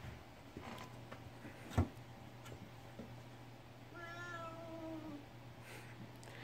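Faint cat meows drift over a steady low electrical hum, with a drawn-out rising and falling meow in the middle and a sharp knock just before it, all quiet and somewhat distant.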